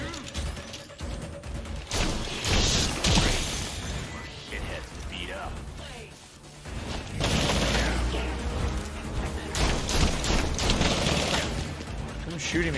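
Enemy gunfire in the Gotham Knights video game crackles in loud, dense bursts among clanks and crashes of combat, with someone talking over the action.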